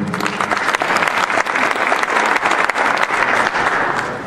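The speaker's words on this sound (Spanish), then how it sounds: "amigo Omar, fuerte aplauso para ellos." Steady, dense applause from a crowd at a regional mayors' meeting in southern Peru, continuous and fairly loud throughout, with no pauses.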